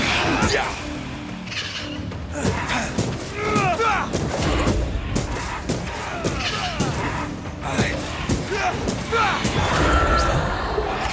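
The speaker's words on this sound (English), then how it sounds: "I think I heard the sound of a gun." Gunfire in the video game Banishers: Ghosts of New Eden: repeated thumping shots and bursts scattered throughout, mixed with game music and character voices talking over the action.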